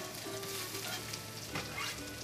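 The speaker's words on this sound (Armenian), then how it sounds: "պատրաստում ենք սոխարած։" Chopped onions fry in well-heated oil in a hot pan, a close, continuous crackling sizzle with small pops and faint stirring scrapes.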